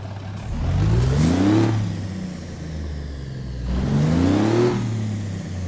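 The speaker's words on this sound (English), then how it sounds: "Let's go ahead and get this W900 started up and get on the road." A Kenworth W900 truck with a Cummins NTC diesel engine in American Truck Simulator rumbles and revs, rising twice in rising engine swells with a steady idle between them, fairly close and with no talk.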